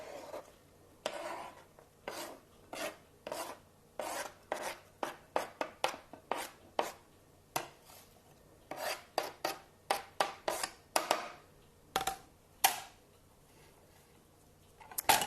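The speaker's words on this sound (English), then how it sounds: "Chop that up pretty finely." Knife chopping food finely on a cutting board for an Italian salad sandwich, heard as a long run of quick, crisp, close-up strokes in irregular bursts with brief pauses, quiet and free of talk.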